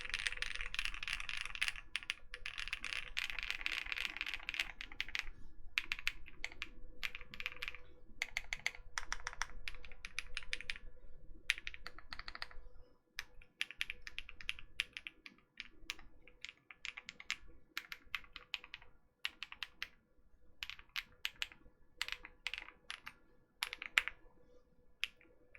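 Typing on a custom Tofu TKL mechanical keyboard, steady rapid key clacks close up, denser at first and then sparser, more separated strokes, with no voices.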